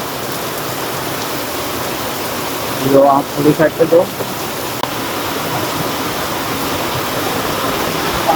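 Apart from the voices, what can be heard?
heavy rain pouring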